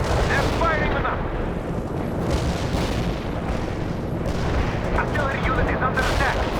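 Heavy artillery firing in the video game World in Conflict: a continuous loud rumble of distant booms and blasts, with bursts of crackling fire layered over dense battle noise and radio-style voices.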